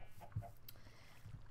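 Minecraft chickens cluck quietly in a couple of short, low bursts, with a brief higher blip in between, over a faint game background and no speech.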